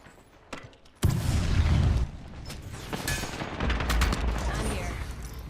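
Video game gunfire bursts in from the first second as loud, dense shooting layered with booms and impacts, continuing steadily behind game effects, with a brief quieter lead-in beforehand.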